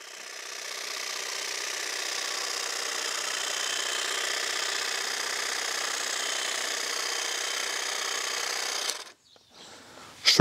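A Gloria FineCut 18V cordless lawn edge trimmer cuts grass along a metal edge on a lawn slope, giving a steady, fairly loud whirring buzz for about nine seconds before it cuts out abruptly.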